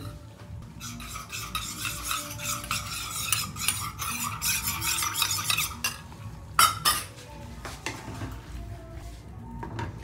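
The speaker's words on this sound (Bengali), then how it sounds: "এবার আমি একটুখানি কর্নফ্লাওয়ার গুলিয়ে নেবো একটা বাটির মধ্যে" Cornflour slurry stirred in a bowl for a dhaba-style chilli chicken, a steady scraping swirl of utensil against the bowl with light clinks, close and continuous with no talk.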